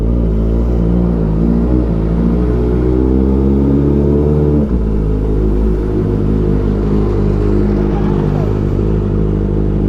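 A Kawasaki ZX-4RR motorcycle engine drones steadily up close on a mountain road, its pitch shifting near the middle as the rider changes speed, loud and continuous throughout.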